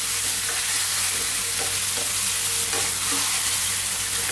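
Tomatoes cooking down in a pan over high heat for a chicken curry, stirred almost constantly, give a steady, close, full sizzle with faint scraping running throughout.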